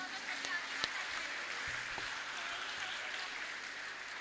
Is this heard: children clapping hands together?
yes